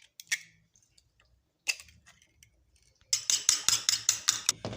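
Two eggs whisked in a cup with a metal utensil: a few isolated clinks, then a close, fast, regular run of bright tapping and clattering strokes.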